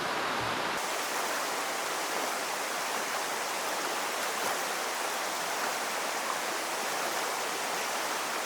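A continuous, even hiss of escaping air from an AeroPress coffee maker runs steadily from start to finish, loud and close, with a brief softer moment at the very beginning.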